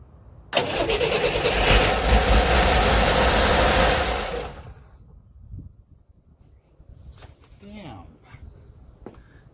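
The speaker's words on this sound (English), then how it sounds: "I must have an exhaust leak or something." A 1964 Corvair engine with an exhaust leak roars loudly for about four seconds with a rough, rattling rasp, then cuts out, leaving quieter clicks and brief faint sounds.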